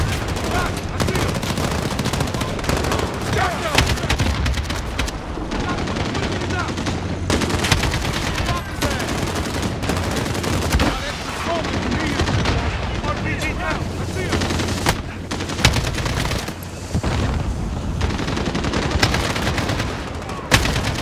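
Heavy gunfire at a fortified hospital entrance in Call of Duty Modern Warfare, with dense machine-gun bursts and loud booming shots going almost nonstop, mixed with shouted voices.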